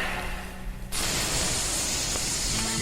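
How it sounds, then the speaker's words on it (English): Aerosol cans of bug spray hiss out in a sudden loud, continuous burst after a brief quieter lead-in, steady and close, with no voices. "it's followed by the sounds of spray cans, presumably once again containing bug spray."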